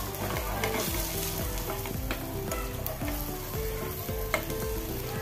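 Fish sizzling steadily as it fries in a pan, a dense close crackle with rhythmic scraping stirs, no voices.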